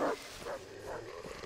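Dogs or wolves barking and yipping in the Far Cry 3 video game, a few short bursts spaced across a second and a half at moderate loudness amid background game ambience.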